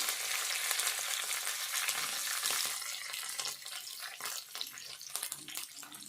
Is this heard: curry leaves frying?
yes